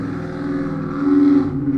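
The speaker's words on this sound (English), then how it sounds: "You guys hear that car that just drove past? It's so loud." A car drives past in the city-building game Cities Skylines, a loud, steady engine drone that swells slightly midway and then eases off. No one speaks.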